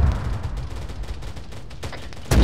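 Mortar rounds land in Arma 3, a dense stretch of distant rumbling explosions and crackling blasts rolling together, ending in a sharper, louder impact close by.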